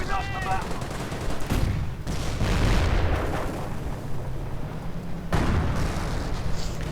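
A WWII strategy game battle with British infantry and assault guns, where rockets and gunfire crack and boom in dense, overlapping bursts. Loud volleys alternate with brief lulls throughout.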